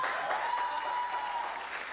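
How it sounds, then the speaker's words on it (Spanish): Studio audience applauding on a Spanish-language television talk show, a steady wash of clapping at low level throughout, with no voices on top. "El aplauso, por favor."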